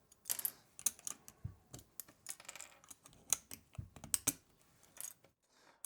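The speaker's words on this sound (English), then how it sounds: "to install the knob, you need to take out a few of the actual keycaps themselves so you can get to it" Keycaps are pried off a keyboard, giving a quick irregular series of close, sharp plastic clicks and snaps with brief pauses between them.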